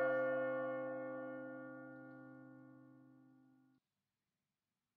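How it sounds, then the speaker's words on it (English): A single bell tolls in the video game Labyrinth of Refrain: Coven of Dusk, its clear ringing tone decaying steadily over a few seconds before cutting off into silence. "the bell just rang"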